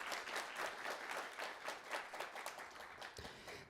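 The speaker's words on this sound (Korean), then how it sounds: "다시 한번 뜨거운 박수로 맞춰주시기 바랍니다" An audience clapping at the opening ceremony of an academic conference, a moderately distant burst of many hands with a slightly pulsing rhythm, fading toward the end.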